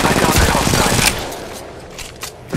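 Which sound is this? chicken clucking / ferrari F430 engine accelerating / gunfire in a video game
gunfire in a video game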